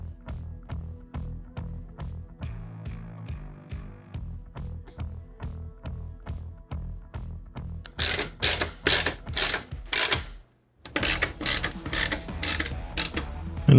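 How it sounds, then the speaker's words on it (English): A ratchet tightening the mounting hardware screws on Harley Softail saddlebags, steady close clicks at an even pace, then a burst of faster, sharper ratcheting with a brief pause partway through. "You grab your hardware, add some Loctite, and screw it back on."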